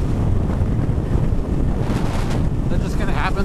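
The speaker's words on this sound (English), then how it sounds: "After a while, I think you get fatigued with the wind just kind of beating on you" Heavy wind buffets a rider on an unfaired Triumph Bobber motorcycle, a loud, constant roaring rush of air over the microphone with no break.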